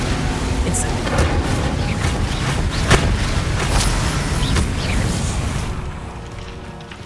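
A fire spell in Hogwarts Legacy bursts out amid dense game effects, a loud crackling, rushing roar with sharp pops and one strong hit near the middle, fading out at the end.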